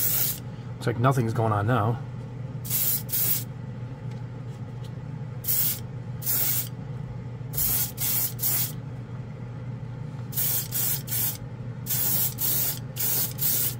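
A Grex airbrush sprays color shift paint in short bursts of sharp hiss, roughly a dozen separated by pauses, up close; someone speaks briefly near the start.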